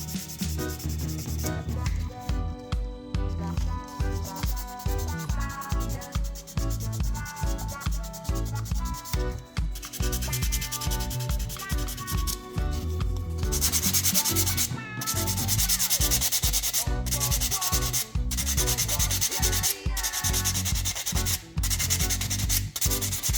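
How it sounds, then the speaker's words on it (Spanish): Oxidized silver jewelry being rubbed with emery, a continuous close scratchy sanding sound in quick back-and-forth strokes that carries on without a break and without speech. "le vamos a pasar un poquito de esmeril para que puedan ver cómo envejeció las partes en bajo relieve"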